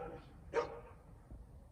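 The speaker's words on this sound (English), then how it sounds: "Couple pretty little doggies." A small dog gives a single short, sharp bark at a fair distance, faint over low background rumble, with a softer yip trailing after it.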